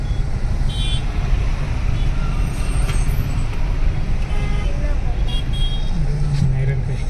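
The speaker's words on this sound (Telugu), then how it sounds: "చూడండి ట్రాఫిక్ ఎంత ఉందో. హైదరాబాద్ని మించి ట్రాఫిక్ బెంగళూరు." Heavy road traffic in Bangalore forms a constant dense rumble of cars, buses and trucks, with an occasional hiss of air brakes and voices talking over it.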